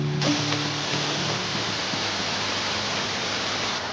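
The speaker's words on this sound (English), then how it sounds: "We found another waterfall and I'm glad I've got waterproof shoes on." A waterfall in China pours in a steady, loud, broadband rush that fills the scene close by, constant from start to finish with no talk.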